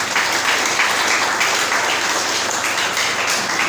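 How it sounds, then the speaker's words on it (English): Applause fills a school Founder's Day gala award night as the audience honours security leaders, steady dense clapping holding at full loudness throughout without a break. "please let us give a round of applause for our security leaders"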